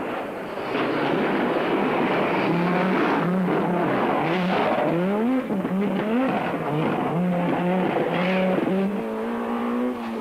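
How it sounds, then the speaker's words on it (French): Audi rally cars racing past on a stage, engines roaring loud and close with rising and falling revs through gear changes, a continuous dense wall of engine noise with no talk. "Tiens, voilà les Audi"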